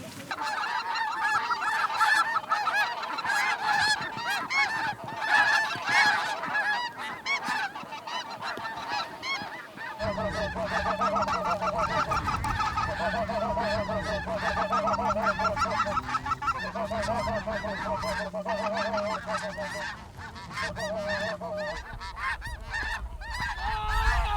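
Geese honk repeatedly and overlapping during a late-season Kansas hunt for specklebellies, snow geese and Canada geese, the calls moderately near, joined midway by a lower, steadier honking chorus.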